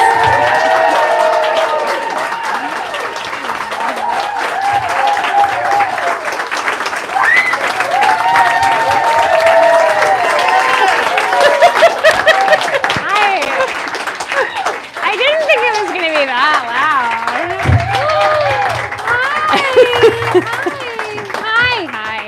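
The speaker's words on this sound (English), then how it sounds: "Thunderous applause." An audience at a book event gives sustained, loud applause to welcome author Priyanka Mattoo, with voices speaking over the clapping throughout.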